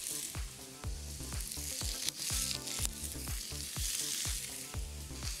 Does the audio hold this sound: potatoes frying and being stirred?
yes